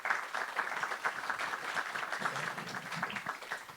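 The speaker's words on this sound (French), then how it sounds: "j'ai le plaisir de donner la parole à monsieur Henri-Michel Commet, secrétaire général du groupe ADP, que je vous demande d'applaudir" At a business meeting on an airport terminal construction project, an audience applauds to welcome a speaker, a short burst of dense, moderately loud clapping heard on its own.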